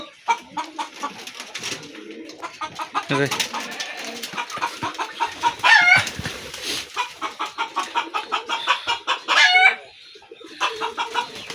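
Broiler chickens cluck steadily in a rapid, rhythmic series close by, with occasional louder squawks breaking through the repeated calls.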